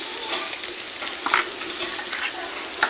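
Sugar added to hot oil for a Bengali mutton curry with poppy seed sizzles steadily up close, a continuous frying hiss with small crackling bursts and no voices.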